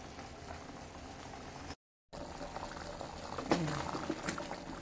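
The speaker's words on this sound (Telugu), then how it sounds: "ఇదండి మసిలింది, మంచిగా మసిలింది." Taro (chamagadda) dappadam curry bubbling at a steady simmer in a pot, a soft continuous boil with a brief dropout midway and a little louder bubbling toward the end.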